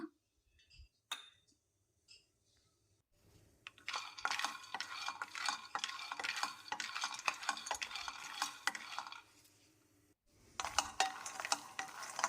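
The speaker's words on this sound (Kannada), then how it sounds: "ಕಡಲೆ ಬೀಜ ಹಾಕ್ಕೊಂಡು ಹುರ್ಕೋಬೇಕು." Peanuts roast in a pan on a stove, starting with a few isolated clinks, then a busy, close rattle and scrape of nuts being stirred against metal, a brief pause and a final burst of stirring.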